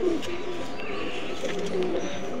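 A young adult male golden pigeon with red eyes coos softly nearby in low, rolling phrases over a steady background hiss.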